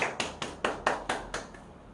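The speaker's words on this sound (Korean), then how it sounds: "우리 예배를 받으신 하나님께 영광의 박수 올리겠습니다." A church congregation clapping during a service, about eight sharp claps in a steady, even rhythm, together and fairly close, with no talking over them.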